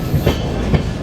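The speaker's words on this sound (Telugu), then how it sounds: "అది కూడా మన డీజిల్ లోకోమోటివ్" Agartala Express train number 15664, hauled by a diesel locomotive between Silchar and Agartala, rumbles loudly from inside a coach, with two heavy wheel clacks about half a second apart.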